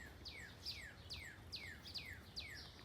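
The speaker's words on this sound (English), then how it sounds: "The birds are happy today." Birds in a leafy home garden sing in repeated descending chirps, about two per second, clear and moderately close over a quiet outdoor background.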